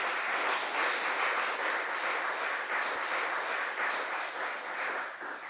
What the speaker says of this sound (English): Big applause to them, guys.